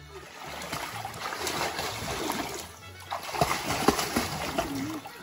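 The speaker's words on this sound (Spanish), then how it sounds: "¡Como nada, Oliver!" A child swims and splashes in a backyard pool, with continuous close sloshing and splattering water that swells toward the end while people's voices break in now and then.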